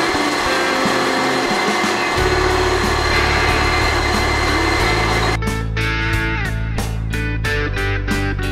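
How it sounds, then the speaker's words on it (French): Kitchen robot blending a béchamel sauce hums steadily, its motor tone shifting pitch midway, then giving way to a rapid run of clattering, choppy pulses near the end. "Le robot va juste m'aider à bien mixer et puis à bien mélanger la chose."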